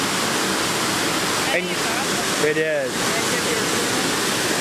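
Water pours out of the Hoover Dam spillway in a steady, loud, broadband roar that fills the whole clip, while people speak briefly over it.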